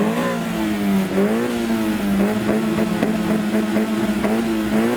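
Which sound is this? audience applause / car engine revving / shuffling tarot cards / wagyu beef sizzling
car engine revving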